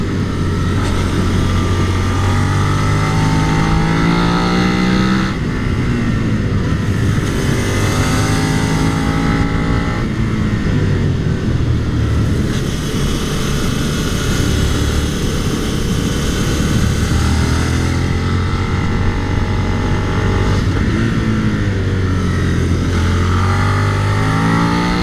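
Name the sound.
Suzuki SV650 motorcycle engine screaming at full throttle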